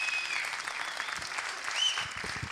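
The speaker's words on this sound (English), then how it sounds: "A big applause for Hiroshi Wald." Audience applause at a tech conference event welcoming a speaker on stage, continuous clapping from a seated crowd at moderate volume, a few sharper nearby claps standing out toward the end.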